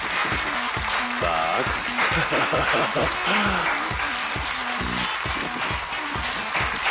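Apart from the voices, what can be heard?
applause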